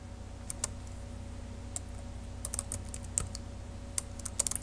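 Typing on a computer keyboard, sparse then quicker clusters of light, close key clicks over a low steady background hum.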